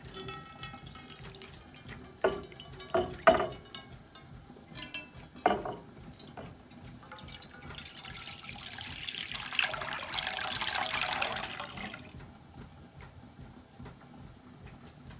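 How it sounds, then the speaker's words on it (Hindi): Milk, one and a half litres of it, is poured into a pan for homemade khoya, a steady liquid splash that swells toward the end, with a few clinks and knocks from the pan along the way and no talk. "इसको मैं अब डालती हूँ पैन में"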